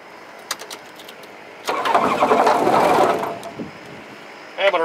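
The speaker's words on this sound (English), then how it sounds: "this is how you start a Rotax 912." A Rotax 912 aircraft engine is started with the choke on and throttle closed. A few clicks come first, then the engine catches with a loud, rough burst. It soon drops to a quieter, uneven idle.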